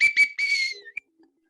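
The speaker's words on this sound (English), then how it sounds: "I'm taking my whistle, Vaughan" A shrill whistle is blown in three bursts, two short toots followed by a longer sustained blast that trails off, then a brief chirp and silence.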